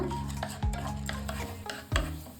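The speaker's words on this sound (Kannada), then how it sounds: "ಉದ್ದಿನಬೇಳೆ ಒಂದು ಸ್ಪೂನು ಇದನ್ನು ಫ್ರೈ ಮಾಡ್ಕೊಳ್ಳೋಣ" Urad dal and chana dal fry in a pan with a low sizzle, as a spoon stirs and scrapes the lentils, giving two prominent scraping sweeps and lighter rattles between them.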